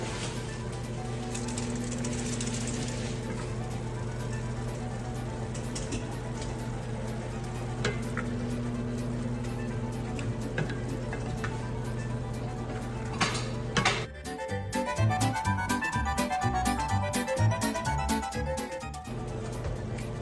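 Eggplant adobo is stirred in a sizzling pan, a faint steady frying hiss for most of the time, then a spoon scraping and clinking against the pan in quick repeated strokes near the end.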